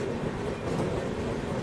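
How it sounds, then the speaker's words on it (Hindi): Trains rolling into Prayagraj station side by side make a steady, faint rumble with soft clattering wheels and no voices. "दोनों गाड़ी की पैरेलल एंट्री हो रही है प्रयागराज में।"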